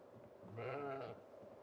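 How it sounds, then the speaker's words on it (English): A sheep in the Project Zomboid video game lets out one drawn-out, mid-loud bleat with a low, almost moo-like tone, heard on its own with no talk over it. "I swear those sheep sound like they're mooing."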